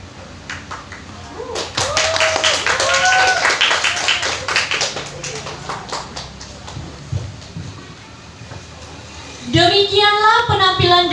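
Audience applause after a contestant's entry in a Pancasila Day speech contest, a burst of clapping running for several seconds, mixed with voices and followed by a tonal sound near the end.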